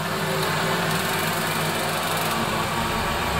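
A gas double-circuit boiler starting up as its burner ignites, heard as a steady, loud, close mechanical hum and whir with a slight shift in tone partway through, no voices.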